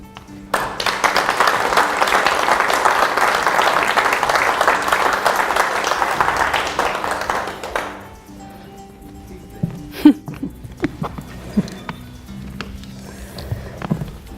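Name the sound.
studio audience applause welcoming a guest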